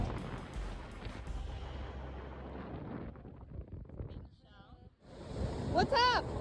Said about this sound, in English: It is definitely windy here on Whitney Beach, but it's beautiful.